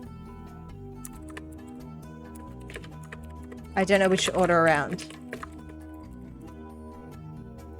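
Computer keyboard typing in quick light taps runs softly under background jazz music and a voice speaking, with a louder burst of music partway through.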